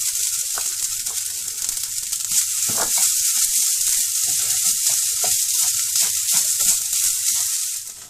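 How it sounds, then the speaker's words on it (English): Grated coconut dry roasting in a pan for a Mangalorean chicken curry gives a steady, close, loud high sizzle and hiss with faint scattered stirring scrapes, no talking. "the last thing is to dry roast the grated coconut"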